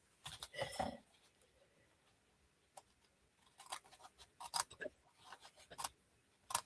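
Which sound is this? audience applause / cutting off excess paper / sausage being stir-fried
cutting off excess paper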